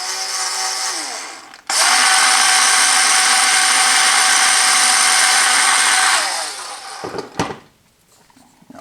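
A power drill driving a 1/2-inch screw into foam board while building a hinge cutting tool for RC planes, a loud steady whirring run of about five seconds that winds down, close up.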